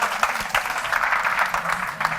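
A brief, steady burst of audience applause from a crowd at a business talk, with dense clapping that holds at an even level throughout.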